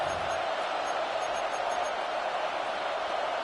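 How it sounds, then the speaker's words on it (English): A football stadium crowd roars in a steady, distant wash of cheering before a third-down play, with no clear voice above it. "This crowd into it now as we get to 3rd down."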